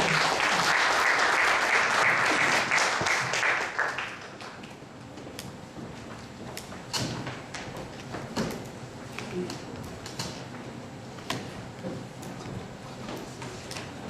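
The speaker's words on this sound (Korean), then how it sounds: "큰 박수로 한번 환영해드립니다." Applause from an audience welcoming speakers at a Taekwondo policy forum, loud and dense for about four seconds before dying away into a quiet room with scattered taps, knocks and small handling noises.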